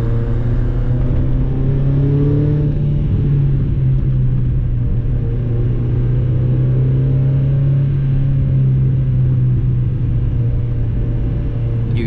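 A Mazda MX5 on the road holds its engine at high revs, a loud, steady drone with a slight rise in pitch over about twelve seconds and no voices.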